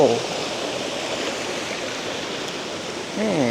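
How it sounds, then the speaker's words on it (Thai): Continuous rushing of a flowing stream near a waterfall in Mae Sot, Thailand, steady and close, with brief speech at the very start and again near the end. "เนี่ยน้ำไหลเงี้ย"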